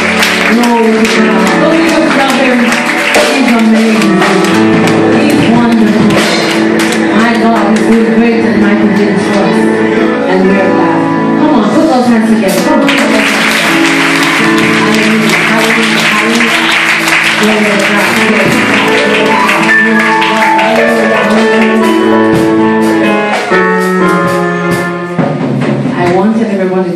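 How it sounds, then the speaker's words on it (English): Sustained rhythmic hand clapping from a church congregation mixed with loud praise-team singing and music, steady and full for the whole stretch. "I want everybody to still keep clapping."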